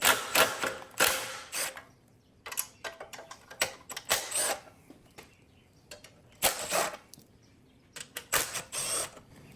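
A ratchet with an extension loosening 8 mm bolts from the shroud of a 168F Chinese diesel engine, giving bursts of close metallic clicking separated by brief quiet gaps.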